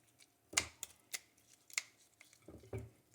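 Kitchen scissors snipping along the spine of a striped sea bass, a few sharp, close crunching clicks spaced irregularly, quiet and alone.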